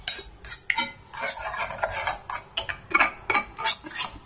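Spoon clinking and scraping against a bowl while a homemade herbal hair dye paste is mixed, a steady run of close, crisp taps and scrapes with short gaps, no voices.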